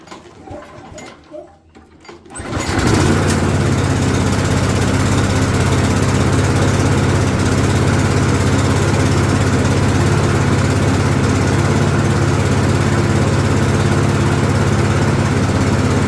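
A walk-behind lawn mower engine starts after a couple of seconds of quieter handling noise, then settles into a loud, steady, close-up drone that runs on without a break.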